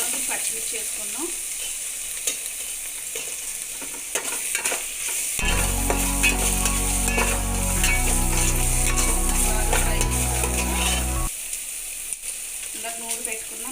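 Green chillies go into onion already frying in a pan for a fish pulusu curry, giving a steady close sizzle with stirring scrapes; a low humming tone runs under the middle stretch.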